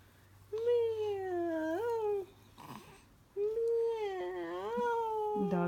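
A father's voice imitates a cat's meow for a child, making two long, drawn-out, wavering meows that are close and clear, with a brief pause between them.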